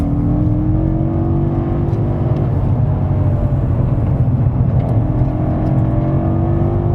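A 2018 BMW M5 F90 accelerating in rear-wheel-drive mode, a loud, close, sustained engine roar with rising revs and tyre-road whir, no talk over it.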